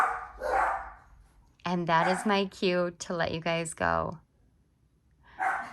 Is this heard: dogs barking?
yes